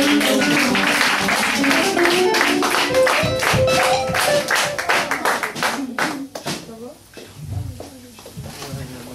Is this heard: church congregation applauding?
yes